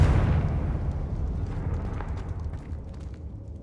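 Confringo blasting spell explosion in Hogwarts Legacy: a loud, low booming burst at the start that rumbles and decays over a few seconds, with faint scattered crackles after, no talking.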